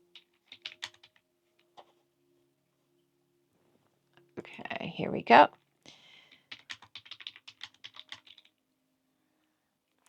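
Light, quick typing on a computer keyboard in short bursts, with a brief spoken phrase in the middle; soft clicks close by.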